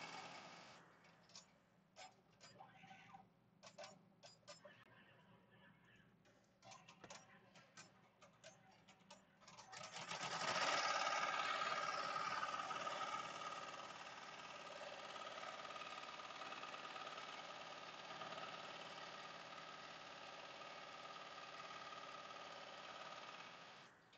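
An embroidery machine stitching a patch for a pop-up shop, first with a busy ticking, stop-start mechanical clatter, then after a short while settling into a louder, steady, continuous whirring hum that runs on to the end.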